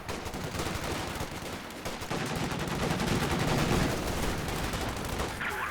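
Sustained suppressing machine-gun fire from a half-track in a Company of Heroes 2 battle: dense, continuous rattling bursts layered with other gunfire and battle noise, loud and steady throughout with no gaps.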